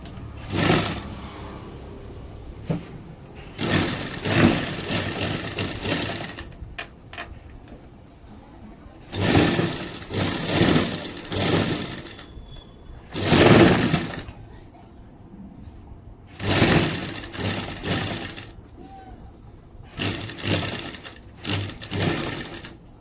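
A sewing machine stitching gold cloth piping onto a boat-neck blouse runs in loud, rapid bursts of a few seconds each, separated by quiet pauses while the fabric is turned.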